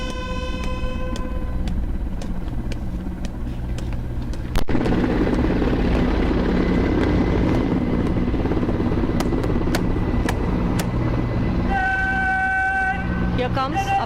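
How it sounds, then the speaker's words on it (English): Mi-17 helicopters of 155 Helicopter Unit flying in Dhwaj formation at the 89th Indian Air Force Day parade at Hindon, a steady loud rotor drone throughout, with tonal hums, a sudden louder surge partway and an announcer speaking over it. "Here comes up in the air the Dhwaj formation, comprising Mi-17 helicopters of 155 helicopter unit"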